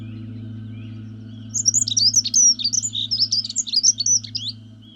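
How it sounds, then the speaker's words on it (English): A goldfinch sings a bright, twittering run of quick chirps and trills for a few seconds, fairly close, over a steady low hum in the background. "The arrival of the goldfinch brings the fields to life with a flash of brilliance."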